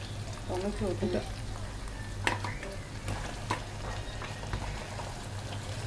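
Tomatoes and green chilies frying in a pan over reddened, lightly fried ingredients for khichuri, with a continuous sizzle, spoon scrapes and metallic clinks up close, and a voice briefly heard over the cooking.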